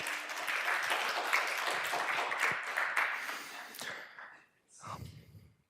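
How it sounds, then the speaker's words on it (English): An audience claps for the board at a meeting, dense, steady applause filling the first four seconds before fading out, followed by a brief spoken voice. "clap for the board"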